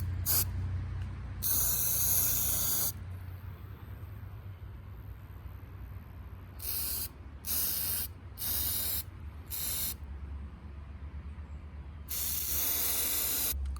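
A spray bottle of CitriStrip paint remover pumped in bursts: a long hissing spray, a run of four short spritzes in quick succession, then another long spray, close and clear over a low background hum.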